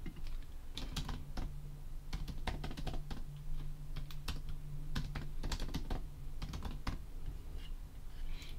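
Fingers typing on a computer keyboard while entering a screen name into a user account form, giving close, quick irregular clicks in bursts with brief pauses.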